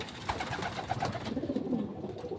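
Racing pigeons coo nearby in soft, repeated throaty rolls while several birds overlap, with a brief bright chirp early on.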